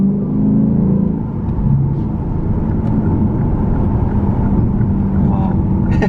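A 467hp Lexus RC F's engine rumbles and builds as it accelerates in manual mode with paddle shifters, heard from inside the cabin as a loud, steady drone.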